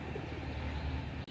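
Several desi pigeons coo together in a dense, continuous, throaty rumble, close and steady throughout a short stretch with a brief dropout near the end.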